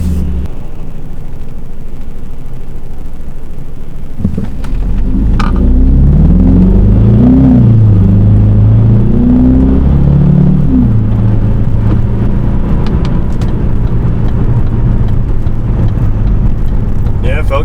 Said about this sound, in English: So we'll see how the 1 to 2 feels in sport mode,